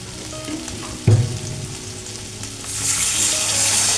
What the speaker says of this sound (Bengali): গরম জল দিয়ে দিলাম।